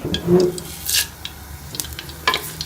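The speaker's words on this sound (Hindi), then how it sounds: "मसाला बनाने के लिए कढ़ाई में घी डाल लेंगे। और इसके अंदर ये साबुत मसाले डाल देंगे।" Whole spices crackle in hot ghee in a kadai, with soft sizzling, a few sharp pops and spoon scrapes against the metal, loud and close with uneven bursts.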